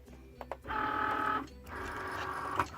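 Sticker sheet feeding into a cutting machine: a steady mechanical whir with rollers running for about a second, a short pause, then a second longer run, ending in a small click, close and moderately loud.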